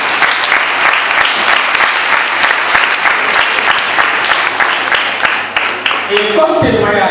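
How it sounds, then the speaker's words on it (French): A school-ceremony crowd applauds energetically, a dense close wash of clapping that stops abruptly near the end, where a voice begins speaking. "Ça s'applaudit probablement."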